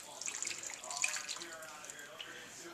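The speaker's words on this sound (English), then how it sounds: "You're going to need to add some water to this." Water is poured into a cooking pot for a Sunday lunch dish, a soft, fairly faint splashing trickle that tapers off over a couple of seconds.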